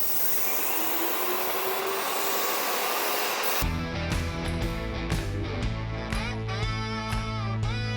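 A steady, loud mechanical whine runs throughout, then shifts abruptly into a harsher, pulsing motor drone partway through, like a paint sprayer running continuously.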